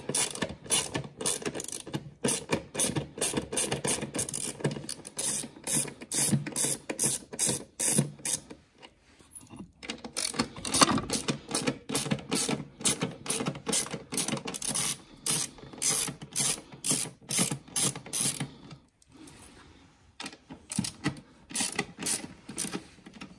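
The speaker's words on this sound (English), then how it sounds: "Undo the bolts." Bolts are undone on a 2012 Mercedes CLS550 engine with a ratchet, making rapid repeated clicking bursts broken by brief pauses, close and fairly loud, with no talk.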